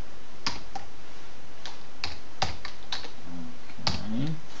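Keys clack on a computer keyboard while commands are entered in MATLAB, a handful of crisp, close taps arriving in uneven bursts with short pauses, and no talking over them.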